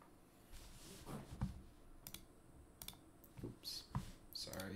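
A pet walks across a computer keyboard, producing a few scattered light key clicks and taps at close range over a quiet room background.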